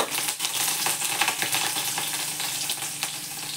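Two chillies hit hot oil with cumin and mustard seeds and give off a loud, dense, continuous sizzle with crackles and small spits, close up, with no talking.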